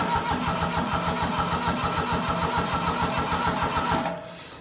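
A diesel engine with glow plugs cranks with a steady, rhythmic chugging pulse, loud and close, for about four seconds before it cuts off abruptly.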